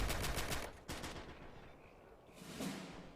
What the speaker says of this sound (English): Right, fires a gun.